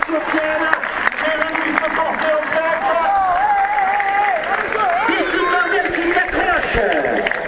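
Applause from a stadium crowd rolls on steadily during a women's distance track race, distant and even, with a commentator talking over it.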